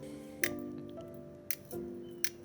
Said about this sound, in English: you can still hear the lighter clicking